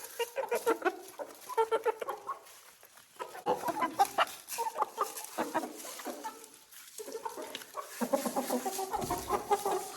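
A flock of young hens clucking and chattering in bursts, fairly close but soft, with overlapping calls that rise and fall across the whole stretch and no talk over them.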